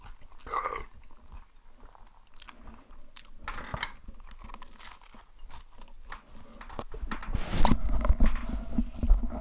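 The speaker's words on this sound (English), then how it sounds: "I don't think you guys will want to hear me chewing" Someone chews food right at the microphone, with repeated wet crunches and clicking bites in an uneven rhythm that grows louder and denser toward the end.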